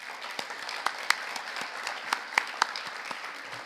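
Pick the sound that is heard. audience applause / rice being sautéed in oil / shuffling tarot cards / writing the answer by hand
audience applause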